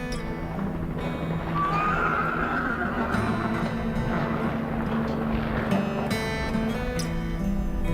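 Wild free-roaming horses neighing, a clear whinny rising above a steady rumbling background of engine-like noise, with hints of hooves and further horse calls later on.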